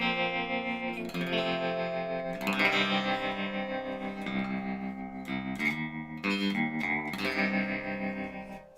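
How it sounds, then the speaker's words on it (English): Baritone electric guitar played through a deathray-style amp on its 1-watt setting with tremolo depth turned up, chords and notes pulsing and wavering with a heavily effected, slightly distorted, echoing tone, loud and close, no talking. "I like tremolo with my baritones, so let's get that back going on."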